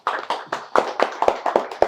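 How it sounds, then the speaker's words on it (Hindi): Loud applause for a student at an electronics repair institute, a group clapping in rapid, uneven bursts close by, with no talking. "तो एक बार इनके लिए जोरदार तालियां।"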